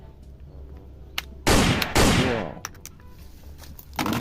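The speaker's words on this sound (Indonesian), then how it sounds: "gun sound effect" Toy pistol firing a gun sound effect, two loud close bursts of electronic gunfire with crackling decay, with brief exclamations from a voice between shots.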